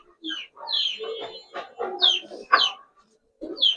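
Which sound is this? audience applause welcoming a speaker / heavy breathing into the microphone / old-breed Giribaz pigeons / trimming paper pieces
old-breed Giribaz pigeons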